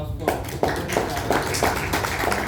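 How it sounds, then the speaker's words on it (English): Scattered hand clapping from a small audience at a music hack day comes in uneven bursts, mixed with people talking nearby. "So big round of applause"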